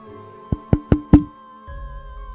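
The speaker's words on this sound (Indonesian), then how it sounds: "3 ketukan yang sedikit kasar." Four hard, rough knocks strike a door in quick, evenly spaced succession. They sound close and loud over a quiet room hum, and a low rumble follows after the knocking stops.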